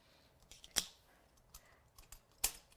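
Scissors fussy cutting around a shape in watercolour card, heard as a few quiet, sparse snips with two sharper clicks of the blades, close and without talking.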